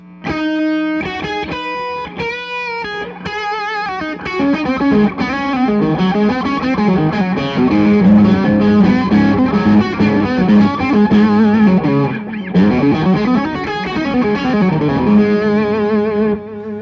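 Electric guitar through a distortion effect plays fast bluesy licks, loud and close, with rapid runs, bends and sustained overdriven notes, no talking.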